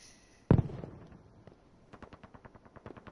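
Bren gun fire in a World War II style video game, starting with one loud close shot and followed by a rapid rhythmic burst of fainter automatic fire in the distance.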